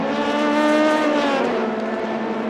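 Race cars at Le Mans, including a Ferrari, roar past in a sustained, loud, steady engine drone with a slight pitch shift as they hold speed, with no voices over them.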